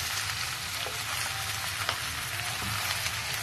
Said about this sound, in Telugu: ఇది కొంచెం పచ్చివాసన పోయేదాకా దీన్ని వేపుకోవాలి